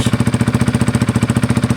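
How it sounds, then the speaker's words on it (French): Honda CB125R motorcycle fitted with a modified Akrapovic exhaust, idling with a loud, steady, rapid engine pulse and deep rhythmic exhaust throb, close up and alone. "pour cette moto, l'échappement a été modifié. Ce n'est pas le son d'origine. Ici, on est sur un pot Akaprovic."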